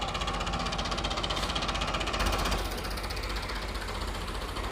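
A tractor engine runs in a village, a continuous loud mechanical chugging and rattling knock that holds steady throughout with no voices.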